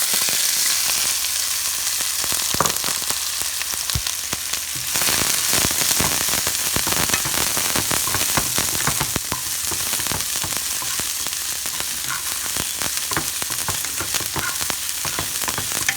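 Chopped garlic sizzles in a hot pan for egg-tomato curry, a steady dense crackle with sharp popping spatters throughout, loud and close, no talking.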